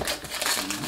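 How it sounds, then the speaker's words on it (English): Plastic wrap is pulled off an Akaso V50X action camera box, a short close burst of crinkling and crackling that lasts under a second. "So let's see if we can get this plastic off."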